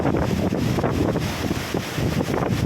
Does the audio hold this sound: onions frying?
no